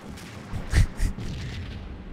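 Sniper rifle shots in the Max Payne shooter game: two sharp, booming reports about a quarter second apart, followed by a low rumbling tail, heard alone with no talk.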